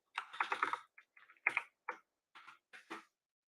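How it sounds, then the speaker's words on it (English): Typing on a computer keyboard in short clustered bursts of clicking keys separated by brief pauses, close and fairly quiet. "Let me just actually type it out right over here."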